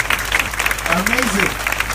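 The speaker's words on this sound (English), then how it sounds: "You can stand up for her and give her a round of applause." An audience at a youth congress applauds a ten-year-old speaker, steady close clapping with a voice speaking over it.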